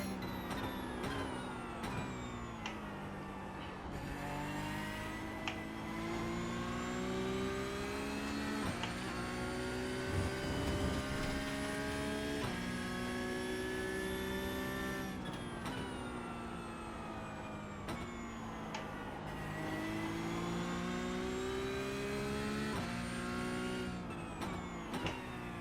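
Porsche Cup race car in iRacing at Imola, the engine howling loudly and continuously as it revs up through the gears, with sharp pitch drops at each upshift, up close and alone.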